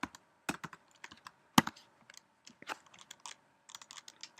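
Typing a jQuery script tag on a computer keyboard: scattered key clicks in short irregular bursts, with a few louder strikes, fairly close and quiet, no voices.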